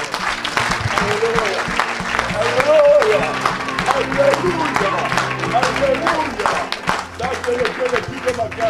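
A church congregation bursts into loud applause and cheering, with continuous clapping and shouting voices filling the room, and a voice calling out over the crowd.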